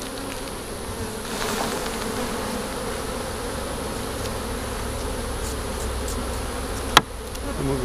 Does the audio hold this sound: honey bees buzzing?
yes